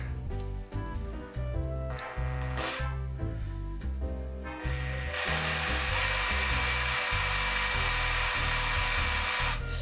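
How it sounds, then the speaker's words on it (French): A power drill boring through wood with a drill bit, a loud, steady motor whine that stutters and dips in the first seconds, then settles into a sustained, brighter grinding drone up close. "Je continue à percer, je tire."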